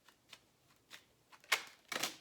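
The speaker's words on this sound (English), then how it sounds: "My whole deck just fell out" Tarot deck spilling out, cards flicking and slapping in a few quick, close bursts, the loudest clatter near the end.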